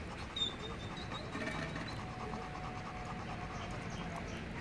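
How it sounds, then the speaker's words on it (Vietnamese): A dog panting quickly during an obedience training session, a soft rhythmic run of breaths at moderate distance under faint background noise, no speech. "Tiếng hơi thở đang dồn dập nha."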